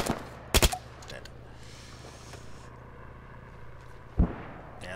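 Gunfire in the military shooter ARMA 3: a sharp close double shot early on, then a single distant-sounding report later, over a low ambient battlefield rumble with faint background noise.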